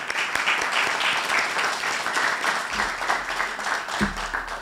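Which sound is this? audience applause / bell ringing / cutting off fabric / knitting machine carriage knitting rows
audience applause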